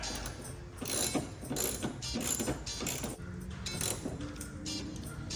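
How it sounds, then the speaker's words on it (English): A wrench ratchets as a nut is tightened on a Ford Mustang hood bracket, giving repeated close clicking strokes with brief pauses between them and no talking. "Now we put the nut back on this one. And we tighten."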